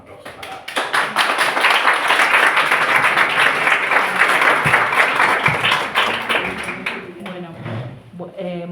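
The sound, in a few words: audience applause at book presentation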